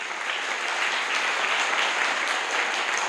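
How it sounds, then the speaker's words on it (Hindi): An audience at a business seminar in Hajipur applauds with dense, steady clapping that holds at an even level throughout. "जोरदार ताली उनके लिए।"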